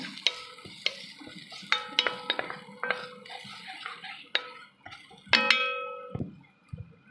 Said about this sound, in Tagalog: gigisa lang natin yung ating sibuyas, luya at saka bawang.